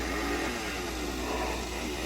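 A buzzing, motor-like chainsaw rattle from a Leatherface Halloween animatronic drones loudly and continuously for a couple of seconds, harsh and mechanical, with no talking.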